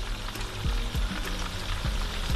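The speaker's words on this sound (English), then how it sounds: "So we got the onions already sizzling" Onions sizzling in a frying pan, a soft continuous crackle and hiss with occasional small pops, close but fairly quiet.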